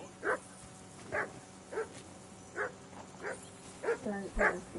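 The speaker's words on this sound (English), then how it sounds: "Whistle at that mutt of yours to stop barking!" A dog in the medieval game Kingdom Come Deliverance 2 barks repeatedly, about eight sharp barks at an even pace over a low hum, with a few fuller yips near the end.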